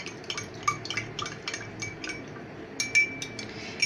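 A spoon stirring a homemade drink in a glass, with a steady run of light metallic clinks and taps, some brighter rings near the end, close and unaccompanied by talk.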